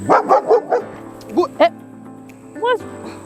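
Dogs on a country property bark close and loud in a quick burst of four or five barks, followed by a couple of yelps and one more bark after a short pause.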